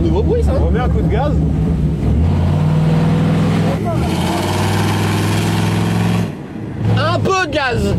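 A car engine revs while the car sits under a 100-tonne load, a loud rough drone that rises and falls with throttle blips, with French voices talking over it throughout.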